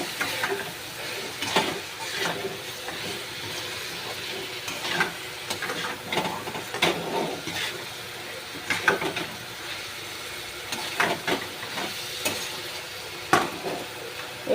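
Spices frying in a pan and being stirred for chicken kanti: continuous sizzling hiss with repeated scraping stir strokes throughout, close and moderately loud, no talk.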